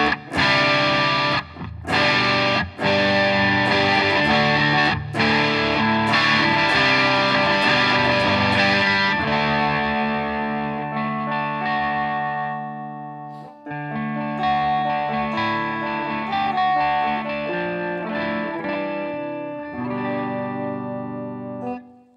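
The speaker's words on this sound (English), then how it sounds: "All right, and distortion in the neck position." A Monoprice Indio electric guitar plays through distortion on the neck pickup, with sustained, loud chords and riffs that ring out, fade, then pick up again.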